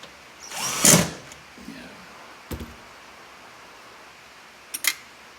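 A cordless drill drives screws through fabric trim on a car's passenger door, giving one longer whirring burst followed by two short, sharp bursts, close by and with no talking.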